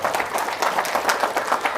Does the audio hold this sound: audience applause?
yes